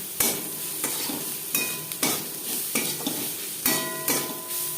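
Onions fry in a pan for a chichinga bhaja dish, with a steady close sizzle broken by about six rhythmic scraping stirs of a utensil against the pan.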